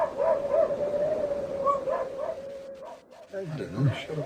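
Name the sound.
husky dogs barking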